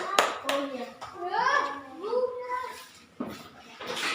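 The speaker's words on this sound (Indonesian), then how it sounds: "Tepuk tangan." A classroom of primary school children claps for group three, the uneven clapping mixed with children's chatter and a teacher's voice, fairly close and bursty.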